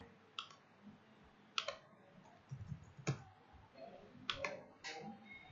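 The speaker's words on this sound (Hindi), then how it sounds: "ये सभी डिटेल्स भरने के बाद आप प्रोसीड बटन पर क्लिक करेंगे।" A computer mouse clicked while filling in an online sign-up form, several sharp, separate clicks spaced irregularly over a few seconds against a quiet room background.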